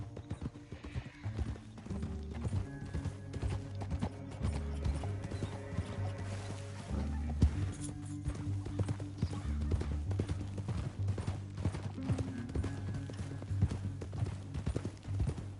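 Steady clip-clop of horse hooves in Red Dead Redemption 2 over a rumbling game soundtrack, with a brief whinny partway through; hoofbeats stay continuous and fairly close.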